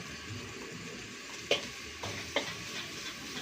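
Nasi goreng stir-frying at a fried rice stall in Ponorogo, a quiet, steady sizzle broken by a few sharp metallic clinks and scrapes, with no talking.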